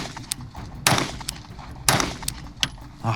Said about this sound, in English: I'll take 3 shots here.